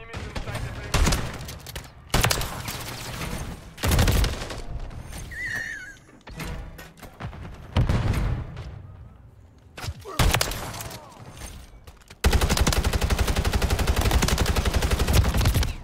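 Video game gunfire arrives in repeated loud bursts separated by short gaps, ending in a long continuous rapid-fire stretch, with a voice speaking between some bursts.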